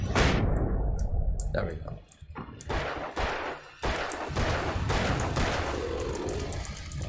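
Revolver shots in the Alan Wake video game, several sharp loud bangs spaced irregularly amid dense game noise, with someone talking briefly over it.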